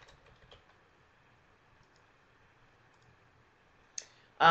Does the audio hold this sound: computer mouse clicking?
yes